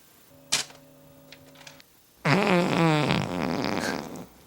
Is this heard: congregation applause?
no